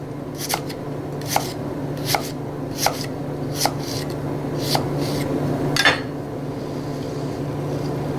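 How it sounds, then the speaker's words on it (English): A knife slicing through a fresh pear, seven crisp cutting strokes at an irregular pace against a steady low hum, close and clear with a quieter stretch at the end. "We'll give it a quick slice."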